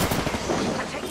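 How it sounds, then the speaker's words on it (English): Dense, continuous gunfire from weapons in the Apex Legends battle royale game, loud and close, filling the whole short moment without a break. "Opening fire on the enemy."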